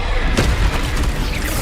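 Expulso spell blast from Hogwarts Legacy, a loud broadband boom that rumbles on continuously through the whole moment amid dense game combat noise.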